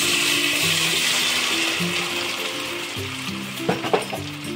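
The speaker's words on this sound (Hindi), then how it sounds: "सोयाबीन को हमारे 5 मिनट हो गए रेस्ट करे हुए, हम इन्हें अच्छे से भूनेंगे" Soya chunks fry in two spoons of oil in a kadai over medium heat, giving a steady, loud, close sizzle throughout with a few brief clatters of stirring near the end.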